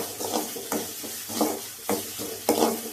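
Onions sautéing in a pan with a little salt and curry leaves for a Sunday fish fry, a steady close sizzle broken by about five rhythmic stirring scrapes, no voices.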